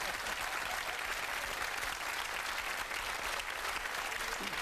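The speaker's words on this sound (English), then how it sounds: "Give her a round of applause." A television studio audience on a live 2001 talk show claps in a full, steady round of applause that fills the room at even strength from start to finish.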